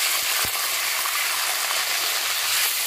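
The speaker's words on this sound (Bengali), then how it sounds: "চিকেনটা একটু ভালো করে ফ্রাই করে নেব।" Chicken fries with whole spices in a pot for a low-oil biryani, a dense, even sizzle throughout with a brief knock near the start.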